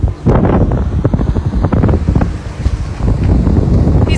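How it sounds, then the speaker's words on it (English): A jet ski circling close around on the open sea, its engine droning loud and steady with rhythmic surges and splashing against heavy wind buffeting the microphone throughout. "this teenager won't stop circling around me on his jet ski"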